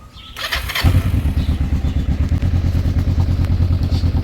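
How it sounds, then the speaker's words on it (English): A motorcycle engine cranks over and fires into a steady, loud idle with a rapid, even putter lasting several seconds. "now we're gonna start the bike and see how it reads"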